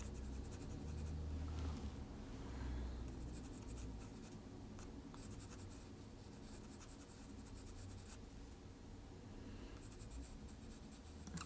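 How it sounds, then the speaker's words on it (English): A charcoal pencil scratches and scrapes over paper while shading a mixed media portrait, a continuous quiet rasping with short strokes and pauses, close and soft with no voices. "I'm going to go in with a charcoal pencil"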